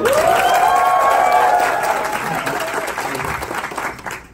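A crowd applauds loudly at first, then the clapping slowly fades and thins out near the end.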